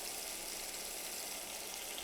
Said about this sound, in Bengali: এখন মশলাটা আমি খুব ভালোভাবে কষিয়ে নিব।